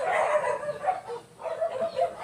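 A dog barks near a garden path at a garden centre, a run of close, fairly loud barks and yips with a short pause in the middle.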